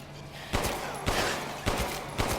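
A handgun fires in Resident Evil Village, four evenly spaced heavy shots about half a second apart, each ringing briefly over a low game ambience.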